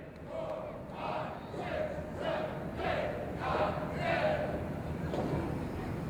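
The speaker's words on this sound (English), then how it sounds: "Listen to the crowd." Wrestling crowd at an NWA World title match chanting and cheering in rhythmic swells, roughly a steady pulse of rising shouts, heard at moderate distance.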